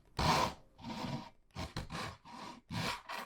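Wood on a cigar box guitar is sanded by hand in close, distinct rasping strokes, about six in a row with short pauses between them.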